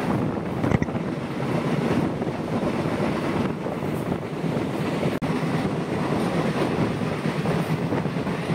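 A train runs straight through Bagma railway station in Tripura without stopping, a steady loud rumble of rolling wagons with wind buffeting the microphone throughout and a sharp click partway through.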